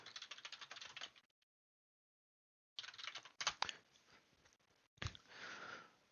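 Typing on a computer keyboard for a text adventure game, with bursts of quick key clicks, a silent pause, then more scattered keystrokes and a heavier thump, close and fairly quiet.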